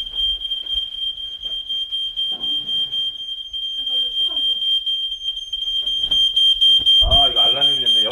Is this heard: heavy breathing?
no